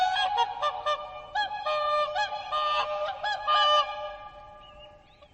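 Loud, brassy honking calls from swans, several overlapping in quick succession and then tapering off, with no talking.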